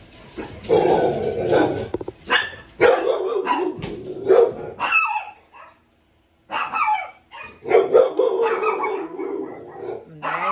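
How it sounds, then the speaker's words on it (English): Two dogs at home, an American Bully and a Chihuahua, barking in loud, irregular bursts with a short quiet gap midway, close to the microphone and mixed with bits of talking. "my dog."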